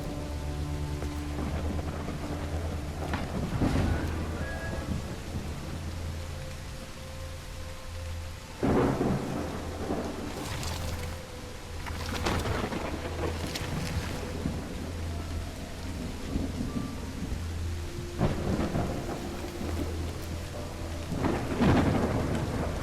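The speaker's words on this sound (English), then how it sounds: "raining cats and dogs here." Heavy rain pours steadily in the video game Call of the Elder Gods, with several deep rolls of thunder rising and fading over a constant low rumble, no voices.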